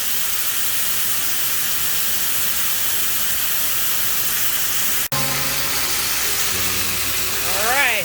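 A cowboy ribeye steak sears in a hot pan with a loud, steady, close sizzling hiss that runs the whole time, briefly cut off midway before resuming alongside faint whining tones and a rising squeal near the end.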